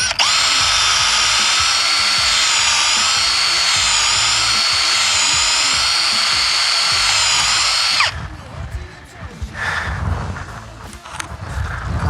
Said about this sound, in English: I'm gonna drill my hole.